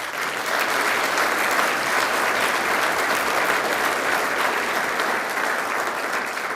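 Sustained applause from an audience at a regional chamber of commerce manufacturing excellence awards ceremony, steady and even throughout with no voices rising above the clapping.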